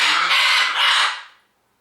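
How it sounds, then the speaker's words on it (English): A pet bird lets out a loud, harsh squawk close by, a single rasping burst about a second long that cuts off abruptly, with no talk over it. "Damn bird."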